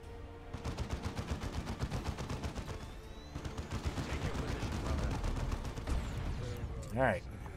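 Sustained rapid gunfire from a Dawn of War II battle fills the scene, dense bursts of shots and explosions aimed at an enemy cannon, loud and continuous with a brief whooshing effect near the end.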